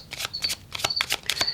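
Smith Waite tarot deck being shuffled by hand, a brisk run of crisp papery riffles and slaps in close succession, near and clear with no talking.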